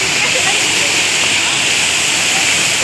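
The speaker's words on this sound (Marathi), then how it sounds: "लय मस्त धबधबा" Thoseghar waterfall roars in a loud, steady, broadband rush that fills the whole stretch, heavy rain falling on the scene, with no break in the noise.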